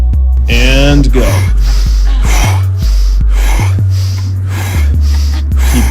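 Rhythmic, forceful breathing during a guided breathing exercise, sharp inhales and exhales repeating about every half second, loud and close over a heavy low beat, with a voice briefly audible at the start.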